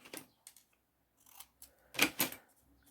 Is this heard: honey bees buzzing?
no